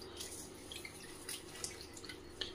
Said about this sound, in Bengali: জলের মধ্যে এগুলোকে ভালো করে পরিষ্কার করে ধুয়ে নেব।